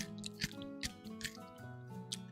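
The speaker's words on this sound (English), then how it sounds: "I'm popping some gum. Can you hear it?" Gum chewed close to a microphone, soft wet smacking and squishing at an irregular, quiet pace with a few sharper clicks, no talking.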